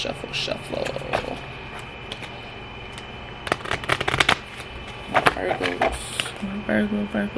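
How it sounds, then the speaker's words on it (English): Tarot cards shuffled by hand in bursts of crisp riffling and flicking, close and fairly loud, with pauses of quieter room tone between the bursts. "Let me shuffle."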